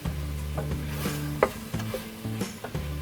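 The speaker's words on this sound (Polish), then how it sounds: "Warzywka mi się smażą" Vegetables frying in butter with a gentle sizzle, punctuated by a few sharp stirring clacks, under low background music.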